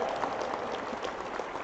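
An audience at a live awards event applauds steadily, a dense wash of clapping without clear individual voices.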